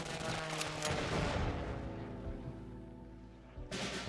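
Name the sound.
artillery fire from Type 4 Ho-Ro card in KARDS video game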